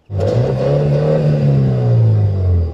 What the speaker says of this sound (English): I check whether the combustion engine JCW still sounds any good